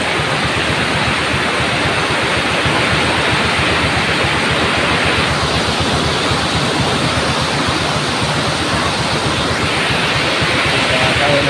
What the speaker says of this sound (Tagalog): ang lakas po ng ulan ngayon dito